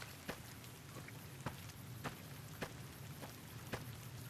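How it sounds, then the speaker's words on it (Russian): Rain in the video game Fallout: New Vegas hisses as a dense, steady wash, faint overall, broken by soft regular droplet taps. "Вроде дождь."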